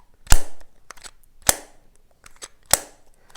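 An OPPO Enco Buds earbud charging case snaps its lid three times, each a crisp, loud, close plastic click about a second apart with soft handling noise between.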